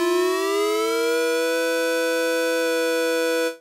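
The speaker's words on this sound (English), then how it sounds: "So if I were to play a note and move the" A bright, buzzy synthesizer note held for several seconds while the second oscillator's tuning is swept, producing a rising detuned pitch that settles into a steady chord-like tone before cutting off.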